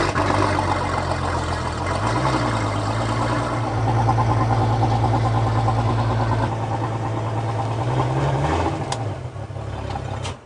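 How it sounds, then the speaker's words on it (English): A boat's inboard engine idles steadily while antifreeze is run through it during winterizing, a close, even mechanical hum with a couple of brief revs rising and falling, and no talking. "So we've just run that engine with some antifreeze."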